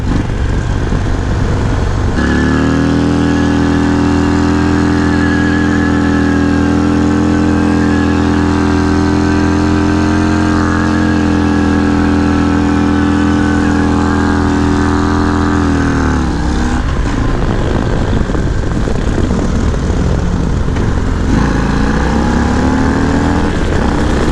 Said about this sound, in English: I just want to show you some riding on the bike